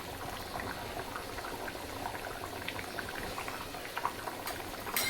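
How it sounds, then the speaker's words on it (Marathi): Pedi fish curry bubbling at a steady boil in a pot, a continuous soft seething with small pops, close and alone with no talk. "बघा आपल्या कालवणाला छान प्रकारे उकळी आलेली आहे."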